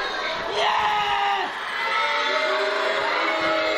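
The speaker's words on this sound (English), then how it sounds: "Ewan's getting that crowd riled again." A wrestling crowd at a UEWA title match roars after a drop kick, a loud, sustained wave of cheering and shouting that dips briefly, then swells again, with voices mixed in.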